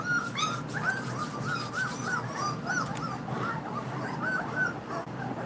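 A litter of puppies whimpers and yips excitedly at feeding time, a steady chorus of high, wavering whines and short yelps running continuously, fairly close, with no speech.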